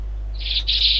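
A parrot squawks in a GTA multiplayer game, a bright, harsh, sustained screech that starts partway in and runs to the end with a brief break, loud over a steady low hum.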